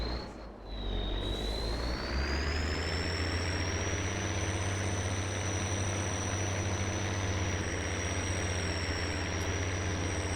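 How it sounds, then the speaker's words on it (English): High-horsepower tractor engine in the Farming Simulator 22 game drones steadily at a low, heavy rumble, joined by a rising high whine that levels off and holds, continuous and loud with no voices. "No problem for this beast though. It's so much horsepower. It's a great tractor."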